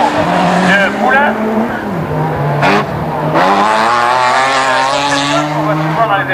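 Renault Mégane rallycross car with a V6 engine racing at a French rallycross event, its engine note rising and falling with revving and possible tire squeal, loud and close, under a commentator's voice throughout.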